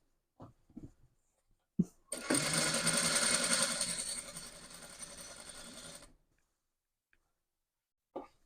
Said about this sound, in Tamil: இப்படி லைனிங் துணியோட ஓரப்பகுதியை தச்சுக்கொள்வேன்